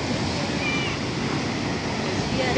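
Sea waves wash against the shore in northern Spain, a continuous broad roar of surf with wind rumble on the microphone, steady and fairly loud from start to finish.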